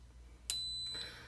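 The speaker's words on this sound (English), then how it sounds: "these are our Instant Pot ribs, so 27 minutes, and I'll just wait for that to beep" An Instant Pot pressure cooker timer gives a single high, sharp electronic beep lasting about half a second, heard close and alone in a quiet kitchen after cooking baby back ribs.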